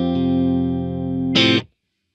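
An electric guitar runs through a Vox AC30 amp set just at the edge of breakup. A sustained chord rings evenly, then a short, bright strummed burst comes before the sound cuts off abruptly.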